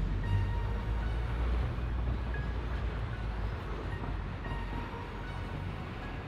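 In the video game Satisfactory, a Caterium train pulls away with a steady mechanical rumble and rolling hum, holding an even level with faint tonal whines above it.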